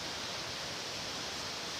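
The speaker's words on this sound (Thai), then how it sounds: "อันนั้นมันน้ำตกตาด" Tad waterfall near Pakse in Laos rushing steadily, a continuous broadband roar of falling water, faint and distant, with no voices.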